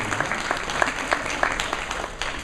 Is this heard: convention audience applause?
yes